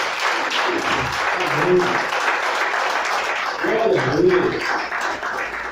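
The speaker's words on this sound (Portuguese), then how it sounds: "Pode aplaudir quando está o Senhor." A church congregation breaks into steady, dense applause that fills the room for several seconds, swelling slightly near the end, while a voice speaks over the clapping.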